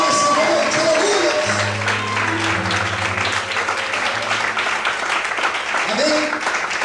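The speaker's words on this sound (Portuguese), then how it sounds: "Todos podem glorificar e aplaudir ao Senhor nessa noite" A church congregation applauding during an evening service, a sustained wash of clapping close by, with a steady tone and voices running underneath.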